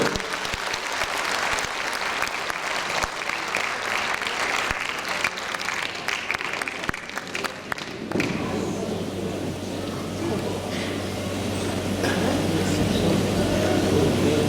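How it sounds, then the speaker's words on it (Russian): Concert hall audience applauding a performer, a thick wash of many hands clapping with sharp individual claps standing out; after about eight seconds the texture shifts and a low steady hum joins the continuing applause. "Ваши аплодисменты."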